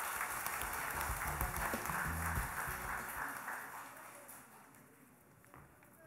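Audience applause fills a large auditorium at the Busan Red Cross hall during the Andong Kwon clan association's 46th general meeting, a dense wash of clapping that slowly fades and thins out toward the end.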